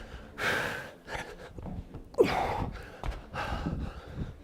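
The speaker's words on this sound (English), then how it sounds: "Heavy breathing." Heavy, effortful breathing after a workout exercise, a run of loud breathy gasps and exhales in an uneven rhythm, close to the mic, with a sharper intake partway through.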